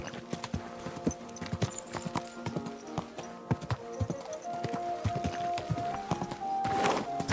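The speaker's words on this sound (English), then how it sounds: "Easy, good horse." Horse hooves clip-clopping in the medieval video game Kingdom Come Deliverance 2, a steady rhythmic series of close, crisp hoof strikes over a soft musical background, with no talk.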